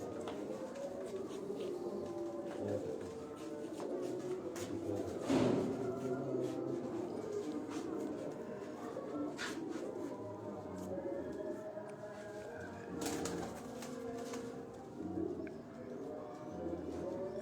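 Misse pigeons, part of a flock of about 200 kept at a home, coo softly and continuously amid faint rustles and occasional knocks, with a low background murmur throughout.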